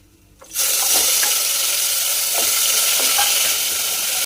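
Onion paste hits a hot pan for a dhaba-style chole masala: near-silence suddenly gives way to a loud, dense sizzle that holds steady, with soft scraping of a spatula stirring through it.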